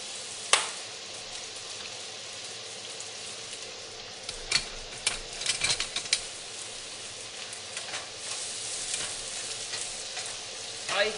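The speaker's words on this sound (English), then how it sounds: "So I'm going to saute that up." Mushrooms sauté in a frying pan with a steady hiss and crackle, broken by scattered clicks and scrapes of stirring, close and fairly quiet with no talking.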